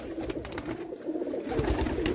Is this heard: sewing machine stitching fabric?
no